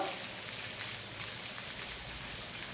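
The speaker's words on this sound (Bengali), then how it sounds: "এবার আদা রসুনটা ভালো করে কষিয়ে নেব" Ginger and garlic paste fries in a pan with a soft, steady crackling sizzle, fairly quiet and continuous, like light rain, with no talking.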